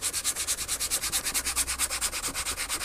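Rust being sanded off a Stagg, giving steady back-and-forth rubbing strokes in a quick, even rhythm, close and fairly loud, with no voices.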